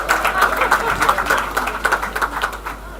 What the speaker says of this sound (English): give her a round of applause as she makes her way to the podium